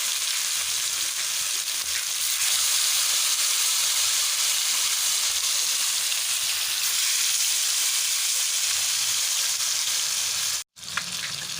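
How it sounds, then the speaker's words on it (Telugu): Fish pieces for fish biryani fry in hot oil with a steady, bright sizzle and hiss, close and continuous, with a brief interruption near the end before the crackle resumes. "ఇలా ఫ్రై చేసుకునే టైంలో ఆయిల్ని అయితే పక్కకున్న దాన్ని పైన వేసుకుంటూ"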